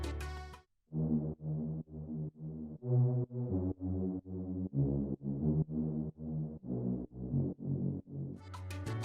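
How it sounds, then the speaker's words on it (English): A warm, lush synth pad sustains layered chords that shift in a steady rhythmic pulse, soft and full, with a brighter burst at the start and end. "I took a lush pad sound to support the mid-low frequencies"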